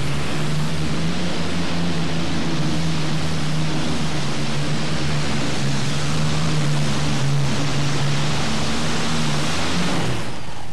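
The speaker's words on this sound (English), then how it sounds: "Let's see if those Allison aircraft engines are all sync, working good." The River Rat, powered by Allison aircraft engines, runs at the 1997 National Farm Machinery Show with a loud, unbroken roar for about ten seconds before cutting off abruptly at the end.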